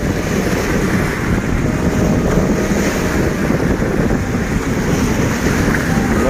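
Fishing boats with small outboard motors set off from the shore on a rough sea at a Kazakhstan sport-fishing championship, heard as a steady, loud wash of surf and wind with no clearly separate engine note.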